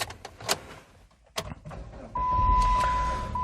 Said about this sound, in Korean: 자 바로 실내에 탑승을 해서 시동 한번 걸어보도록 하겠습니다